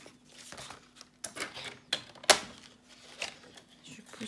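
A paper guillotine trimmer cuts card, producing a few soft sliding clicks and one sharp snap of the blade, with quiet handling noises around it.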